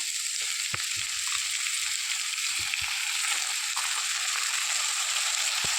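Washed squid rings hitting a hot pan for squid sukka: steady, bright sizzling and frying hiss throughout, with a few soft clicks and stirring knocks underneath, close and continuous.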